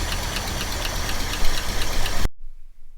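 A 1967 Ford F250 truck engine running after 30 years unused, loud steady idle with a rough rhythmic knock, then abruptly cut off, leaving quiet background.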